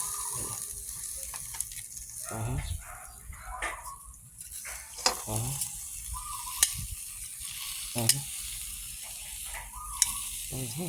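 Tuna grilling on a hot grill gives a steady close sizzle, with scattered sharp clicks and scrapes from turning the fish.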